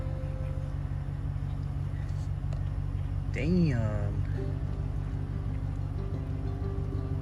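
A Ram pickup truck engine hums low and steady throughout, idling evenly in the foreground while in drive, the truck creeping forward on its own, with a brief spoken exclamation partway through.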